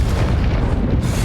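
A Confringo spell blasts in Hogwarts Legacy on Nintendo Switch, a single loud, dense burst with a deep rumbling body that fills the short moment and stays close and heavy throughout.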